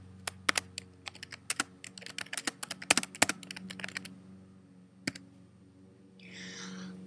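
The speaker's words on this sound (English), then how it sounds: "in this box, we can type down the text of our note" Typing on a computer keyboard while entering a note, close, crisp key clicks arriving in quick irregular bursts, then pausing to a few isolated taps against a quiet room.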